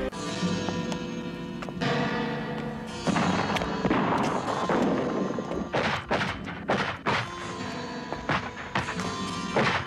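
A zombie movie shootout erupts in a dense burst of gunfire, with sharp repeated shots and heavy thuds over a rumbling action soundtrack, loud and continuous for about ten seconds.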